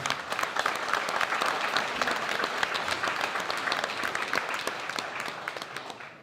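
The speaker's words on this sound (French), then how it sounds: "Francis Tilquin, on va t'applaudir évidemment." An audience at a conference in French applauds Francis Tilquin, known as Coco, a full, busy patter of many hands clapping at steady loudness that thins out toward the end.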